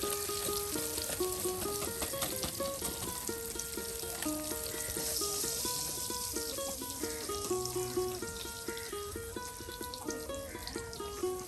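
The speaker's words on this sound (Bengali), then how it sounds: "এদিকে এখন আপনার এই যে কলা সুন্দর করে কিন্তু কলাগুলো ভাজা হচ্ছে।" Banana pieces fry in oil in a village-style kitchen, a constant close sizzle that runs under melodic background music.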